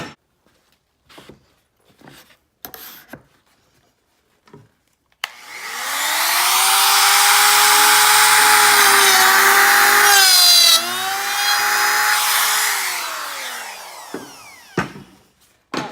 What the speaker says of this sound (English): I am just using the router for the first time.